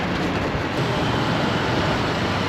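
A Chennai Metro train rumbles steadily past at close range on the Poonamallee to Porur line, a loud continuous roar with a rattling undertone and no voices.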